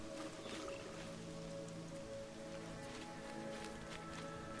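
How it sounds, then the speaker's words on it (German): Steady rain falls in the video game Horizon Zero Dawn, a continuous soft hiss of drops spread evenly through the scene with a low, even ambient bed beneath and no voices. "Der Regen lässt nach."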